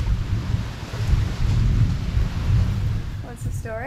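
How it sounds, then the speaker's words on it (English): Big thunder rumbling through a heavy rainstorm on a remote island, a loud sustained low roar over steady rain, with a brief voice near the end. "Big thunder."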